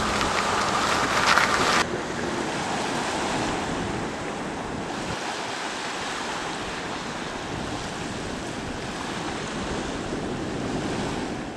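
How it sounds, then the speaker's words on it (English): Waves wash continuously onto the long sandy shore of Kumta Beach in Karnataka, a steady surf roar mixed with wind buffeting the microphone. "Kumta Beach is a long beach."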